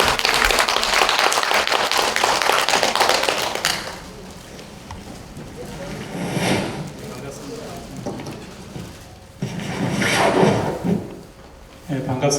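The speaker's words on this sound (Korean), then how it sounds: "여러분 큰 박수 부탁드립니다." Audience applause at a forum in the National Assembly conference room, welcoming the Skydaily newspaper CEO to the podium. Loud, dense clapping fills the first few seconds, then fades into quieter room noise with scattered voices and brief renewed swells.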